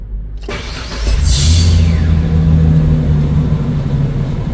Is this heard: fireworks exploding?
no